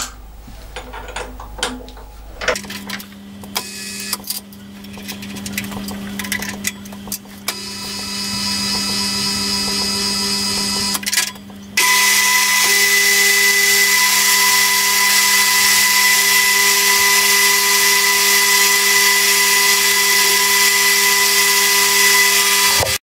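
A milling machine fitted with a 9.5mm slot drill, first a quiet whir and hum, then the motor spinning up into a loud, steady high-pitched whine that holds to the end.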